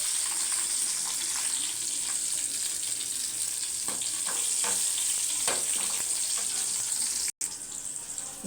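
Two green chillies fry in hot oil with fennel seeds and cumin for a goat liver dish, giving a steady bright sizzle and crackle with a few sharper pops. A brief dropout cuts the sound near the end.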